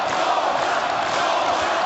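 Boxing arena crowd roaring in support of Kubrat Pulev during his fight with Dereck Chisora, a dense sustained wash of cheering voices.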